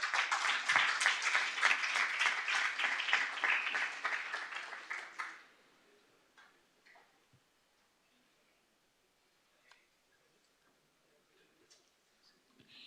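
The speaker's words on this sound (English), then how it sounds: "A huge round of applause for him." Brisk applause from an alumni meet audience in a hospital radiology department gathering, loud for about five seconds before stopping abruptly, leaving a quiet room with a few faint knocks and stray sounds.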